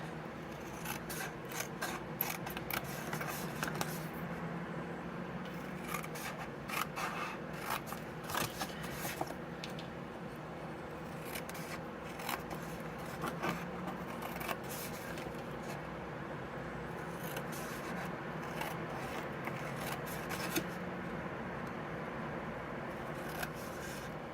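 Scissors cut cardstock along score lines, giving repeated close, soft snips and rasping rubs in a steady, uneven run with no talk.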